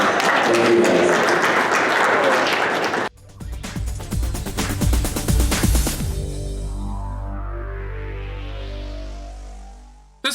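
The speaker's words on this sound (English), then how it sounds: "So you guys get a round of applause." Convention panel audience at a comic and toy con applauding loudly, dense sustained clapping for about three seconds, then a musical sting with a rising synth sweep takes over.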